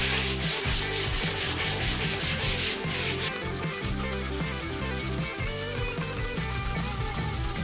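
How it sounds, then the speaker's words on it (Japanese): Hand sanding of a ZZR400 motorcycle swing arm with 400-grit paper: steady, close, rhythmic rubbing strokes with a dry hiss, continuing without pause and with no speech. "は400番で磨いてクリアの方を塗っていきたいと思います。 それでは磨いていきたいと思います。"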